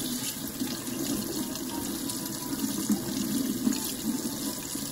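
Warm water runs steadily from a tap into a sink while soaked makeup brushes are rinsed and squeezed, a continuous close splashing hiss with small fluctuations as the flow is disturbed.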